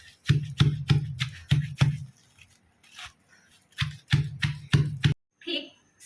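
Chilies and shallots pounded in a mortar for a Thai mushroom curry, sharp rhythmic thuds in quick bursts of five or six strokes with a pause between, close and loud, someone speaking during the gap.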